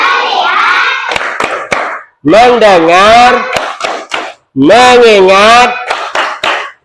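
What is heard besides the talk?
children doing a rhythmic focus clap in class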